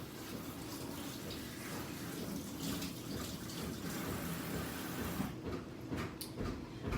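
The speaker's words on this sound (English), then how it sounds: "And I actually am gonna rinse the pepper after I've gotten the seeds out." Running tap water pours steadily while a bell pepper is rinsed in a kitchen sink, a soft continuous splashing hiss that ends with a few faint clicks.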